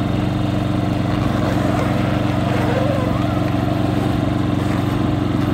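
A portable generator at a caravan campsite drones loudly and steadily up close, a constant low engine hum with no pause, while a soundproof tent is being set up around it.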